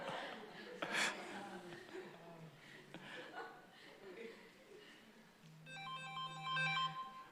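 A mobile phone ringtone from an incoming call sounds in a church service, starting near the end as a melodic electronic tune under chatter and light laughter from the congregation.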